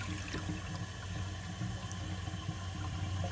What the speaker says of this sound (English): I'm going to give it a mostly empty bowl flush